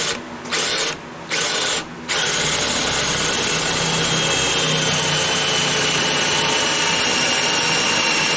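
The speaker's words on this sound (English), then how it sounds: "if I put the hole there, using a paddle bit" A power drill drives a paddle bit into wood for a child's rocker. Three short bursts of drilling are followed by a long, continuous loud whir of the bit cutting through.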